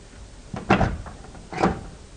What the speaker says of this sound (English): we just opened the door